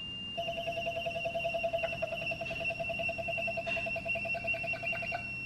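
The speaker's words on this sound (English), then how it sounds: "ignore the high-pitched whining noise of the stepper motor" A stepper motor in an Arduino-driven dog toy gives a steady high-pitched tonal whine with faint rapid pulsing, continuous for about five seconds at moderate level with no talk.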